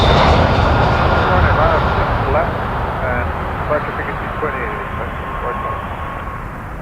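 A United jet airliner taking off from runway 06 left at Toronto Pearson Airport, a loud roaring engine rumble that slowly fades as it climbs away, with radio and commentary voices over it.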